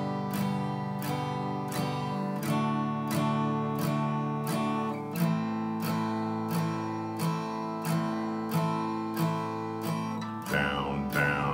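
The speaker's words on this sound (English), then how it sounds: "it's going to be down strums" Acoustic guitar played with steady down strums, one on each beat, ringing chords repeating evenly in an unbroken rhythm with no voices.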